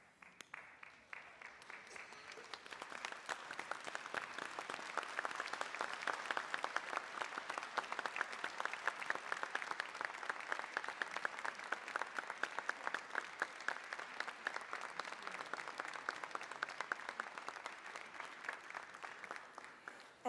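Graduates at a fall university convocation give a long, thunderous round of applause, many hands clapping in a dense, even wash that swells in the first seconds, holds steady, then slowly thins toward the end.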